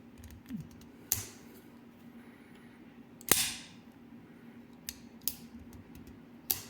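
Benchmade semi-automatic folding knife snapping open, a sharp percussive click near 3.3 s with smaller clicks around it, close and fairly loud against a quiet room.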